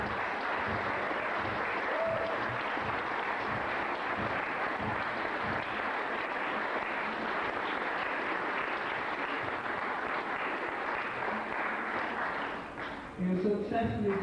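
A book launch audience applauds in a dense, sustained wash of many hands that holds steady for over twelve seconds before thinning out, with a few voices surfacing at the end.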